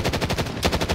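Rapid automatic gunfire from a Call of Duty Warzone match, likely akimbo M19 pistols, cracks in a fast steady rhythm of loud close shots with no talking over it.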